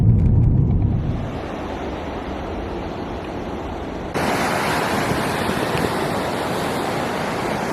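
Large ocean waves rolling onto Hawaii's North Shore, a steady broadband wash of surf heard with wind buffeting the microphone, louder at the start and swelling again partway through, with no voices.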